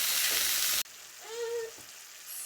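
Diced tomatoes and carrots cooking in a pan give a loud broadband sizzle that suddenly drops to a quieter simmer, with a brief clink or scrape partway through.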